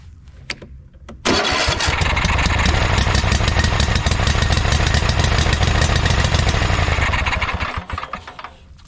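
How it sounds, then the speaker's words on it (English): A Craftsman T240 riding mower engine cranks and catches after brief clicks, then runs loud and steady for several seconds before winding down, with no talk. "let's go ahead and try to turn it over and see what happens"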